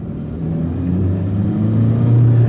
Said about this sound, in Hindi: इंजन चीखे जरूर मारने लग जाता है,